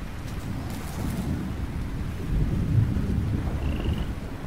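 Rain in the video game Lightyear Frontier, a steady broadband hiss of falling rain with low rumbling swells, continuous and fairly loud, with a faint brief tone near the end and no talk.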